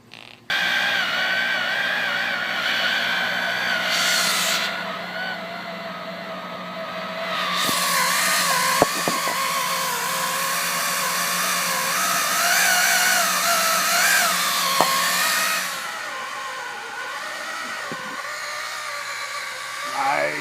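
A power drill runs steadily while drilling out a two-piece bushing, a sustained whine that shifts pitch under load, with a few sharp clicks and a brief stop near the end.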